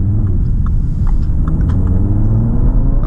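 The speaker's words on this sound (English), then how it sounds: "Let's mash that throttle once more." An Audi TT RS engine pulls hard under full throttle, heard from inside the cabin as a loud, continuous low rumbling drone that rises steadily, with no voices over it.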